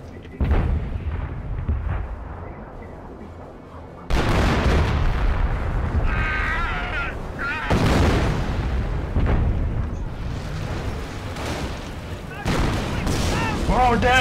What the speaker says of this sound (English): Fire! Howitzer cannon!